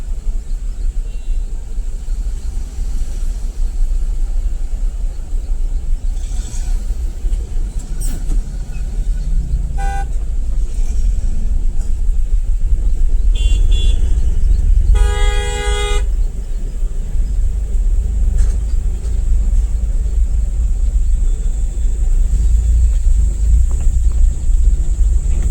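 Highway traffic between Surat and Navsari, with a steady loud road rumble of passing vehicles and several car horn toots near the middle, one especially prominent honk around the fifteen-second mark.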